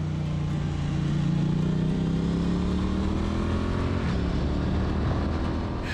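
A Triumph Street Twin motorcycle engine runs loud and close with a steady low rumble, its pitch climbing gently as the bike revs up, with no voices over it.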